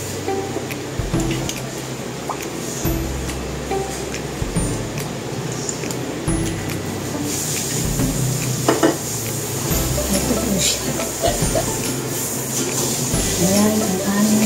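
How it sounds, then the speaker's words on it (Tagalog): Veggie nuggets frying in a pan for a meatless home-cooked meal, a constant loud sizzle with occasional scraping and stirring clatter of utensils against the pan. "magpiprito na muna ako ng veggie nuggets."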